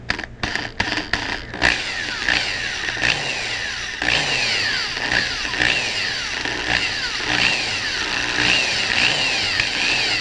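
A variable-speed power drill whirs steadily as it bores a hole in a helmet shell for mounting a helmet camera, starting with a few short bursts and then running continuously up close.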